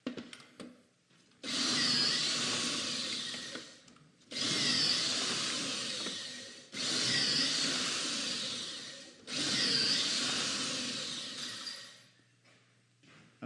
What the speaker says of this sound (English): So I'm going to go over to another machine where I can rapidly drill these holes.